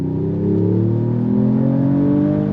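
A 2025 Mercedes-AMG E53 performance sedan accelerates hard from a launch, its turbocharged engine note climbing steadily in pitch and staying loud and close throughout, with no voices.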